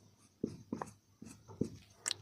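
Chalk or marker writing on a board in a class 10 maths lesson on real numbers: a few short scratchy strokes spread over two seconds, close and fairly quiet, with no talking.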